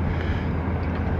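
A boat's engine hums steadily across the water in Gloucester Harbor with a low rumble and rushing wash, brief and fairly close.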